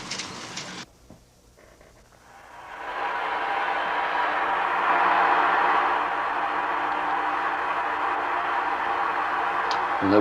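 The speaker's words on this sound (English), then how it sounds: "And there we have white sound." Office sound-masking white noise rises from near silence into a steady, broad hiss covering the full range, loud and monotonous, after a few brief knocks and rustles at the start.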